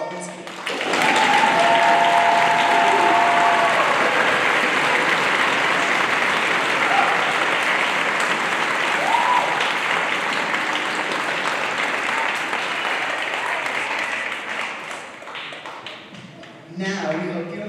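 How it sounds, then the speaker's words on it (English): Concert audience at a middle school spring orchestra performance applauds for Mr. Rotlinsky, a loud, sustained wash of clapping lasting well over ten seconds, tapering slightly near the end, with some voices mixed in. "Now everyone please join me in a big round of applause for Mr. Rotlinsky."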